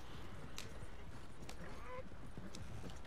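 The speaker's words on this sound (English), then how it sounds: "Why are the horses coming towards us?" Horses in the Red Dead Redemption game clip-clop toward the players in a steady galloping patter, moderately close, under a busy mix of game noise and low voices.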